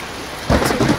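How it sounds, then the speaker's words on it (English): Rain and thunder in a video game: a constant hiss of rainfall, then a sudden low thunder rumble rolls in halfway through and lingers. "Is it raining? Yeah, I guess so, it's raining."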